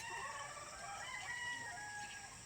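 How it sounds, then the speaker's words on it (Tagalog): Laying hens in a coop cluck and call softly, a faint, continuous chorus of fowl with no talking. "Masipag din mangitlog ang ating"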